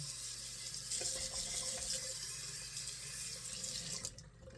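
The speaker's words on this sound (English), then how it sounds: "I'll go ahead and kind of wash this brush out and let you see what it looks like." A Yaki 24 mm tuxedo-knot shaving brush, still full of Shannon's soap, is rinsed under a running tap, a steady close rush of water into a sink that tapers off near the end.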